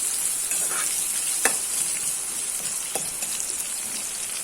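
Crab sukka fries in a pan over high flame, a steady bright sizzle with occasional sharp pops and stirring scrapes, no talking.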